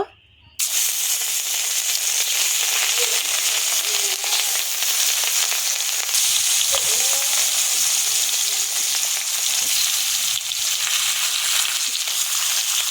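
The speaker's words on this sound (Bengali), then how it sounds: "তেল গরম হয়ে গেছে মাছ দিয়ে দেব" Rohu fish pieces fry in hot oil in a wok, giving a loud, continuous sizzle that starts abruptly after a brief quiet moment and holds steady throughout, with a faint voice briefly audible underneath.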